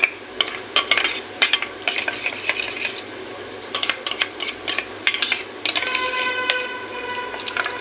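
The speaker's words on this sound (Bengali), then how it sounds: "এটাকে এবার আমি একটু জল দিয়ে মিশিয়ে রাখছি।" Coconut milk is mixed with water in a vessel, with irregular clinks and scrapes of a spoon against the container, close and clear.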